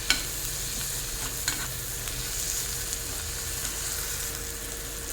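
Jackfruit seeds and shrimp fry in a spiced pan with a steady, fairly quiet sizzle, broken by a few sharp clicks of stirring.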